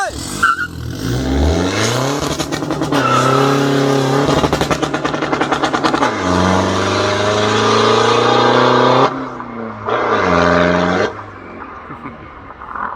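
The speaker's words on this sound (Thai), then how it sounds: "เบรกมือลง ใส่เกียร์หนึ่ง พร้อมแล้วไป" A modified pickup truck launches from a standstill on a drag strip in first gear, its engine roaring loud and close as it revs up through rising pitches, with abrupt gear shifts and brief dips before trailing off.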